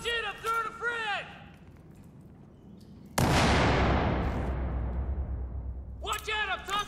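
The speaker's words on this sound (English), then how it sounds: "Watch it! I'm throwing a frag!" A frag grenade explodes with a sudden loud blast in Battlefield 4, its long rumbling roar fading over a few seconds, with shouted voices before and after.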